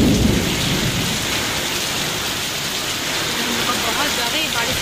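Heavy rain pours down steadily with thunder rumbling through it, a dense, loud, continuous wash of a thunderstorm close by outside a home.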